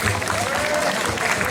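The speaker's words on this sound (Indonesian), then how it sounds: "Tepuk tangan buat Sakila" A class of students claps for a classmate in a short burst of scattered applause, with voices mixed into the noisy room.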